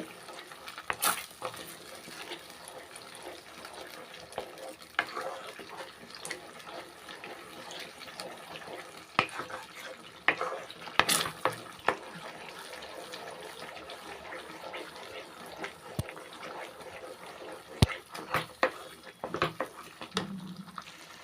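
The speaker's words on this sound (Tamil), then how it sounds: "சிம்மிலே வச்சு அந்த மாவு வந்து கிண்டிக்கிட்டே இருக்கணும்" A spoon stirs mor kali dough in a pot over a low flame. The quiet scraping and tapping comes in irregular bursts, with soft clicks scattered throughout and no voices.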